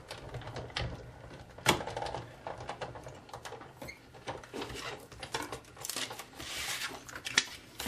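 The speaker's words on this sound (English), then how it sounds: "I'm going to cut that out." Scissors cut out a piece of designer paper for a gate-fold card, a quiet close sequence of irregular crisp snips and paper rustles with no talking.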